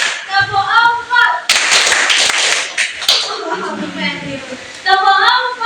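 Classroom group clapping hands on a teacher's counted cue, sharp loud bursts of claps between stretches of a voice speaking at the start and end.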